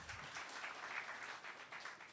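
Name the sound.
audience applause at a seminar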